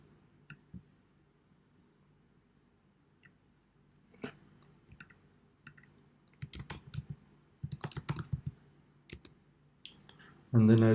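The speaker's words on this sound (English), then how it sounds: "Right click, edit text to empty this field." Scattered sharp clicks from a computer mouse in the NetBeans Java editor while a login form is built, coming in uneven bursts, close and fairly quiet, with soft murmuring talk in places and a louder burst at the very end.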